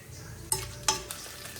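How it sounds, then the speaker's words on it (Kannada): Chana dal fries quietly in oil for an eggplant masala, with a soft continuous sizzle broken by two sharp scraping clicks of a stirring spoon against the pan and a fainter third one after. "ಕಡಲೆಬೇಳೆ ಹಾಕಿ ಸ್ವಲ್ಪ ಫ್ರೈ ಮಾಡ್ಕೊಳ್ಳೋಣ ಎಣ್ಣೆಯಲ್ಲಿ."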